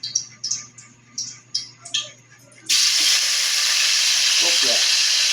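Onion, garlic and tomato for sinigang drop into a hot pan after a few sharp taps, then a loud steady sizzle of sautéing takes over and continues close up, with occasional stirring.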